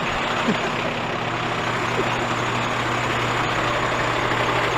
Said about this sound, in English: First time ever driving a fire engine.